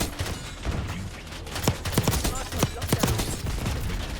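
Stryder .22 pistol firing in bursts in Black Ops 6, a run of sharp, close, evenly spaced cracks that grow denser toward the end over a low game backdrop.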